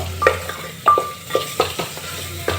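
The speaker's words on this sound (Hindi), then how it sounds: "और 2 से 3 मिनट तक ले नमक के साथ भून लें हम" Onions fry with salt in a pan, a spatula stirring in quick scraping strokes with occasional metallic clinks over a soft, continuous sizzle.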